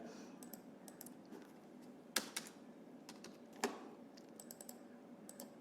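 Typing on a computer keyboard, a quiet close run of light irregular key clicks with a couple of louder keystrokes, no voices.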